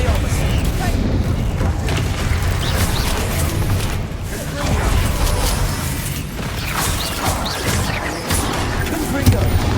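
Expelliarmus spell combat in Hogwarts Legacy: repeated booming bursts and mechanical crashes over a dense, continuous battle din, loud and close, with voices shouting over the effects.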